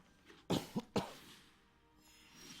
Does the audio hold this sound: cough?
yes